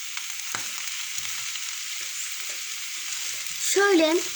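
Meat, garlic, onions and mushrooms fry in a pan with a steady sizzle while a spoon stirs them in a few soft scrapes. A brief voice is heard near the end.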